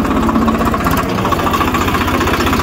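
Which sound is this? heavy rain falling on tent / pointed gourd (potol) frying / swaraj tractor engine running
swaraj tractor engine running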